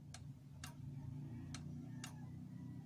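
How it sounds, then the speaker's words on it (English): A pendulum clock ticking off beat, with four sharp clicks at uneven spacing, pairs falling close together and then a longer gap, heard up close over a steady low hum. "And this is the other off beat sound of the clock."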